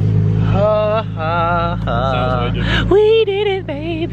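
A Ford Mustang fitted with a BBK cold air intake revs hard in short bursts, its engine tone rising and dropping over a steady idle, while a person speaks briefly over the noise.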